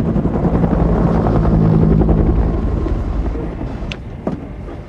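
Loud, close UH-1 Huey helicopter rotor beating steadily and continuously, a dense chopping drone filling the whole stretch with no talk, easing slightly toward the end.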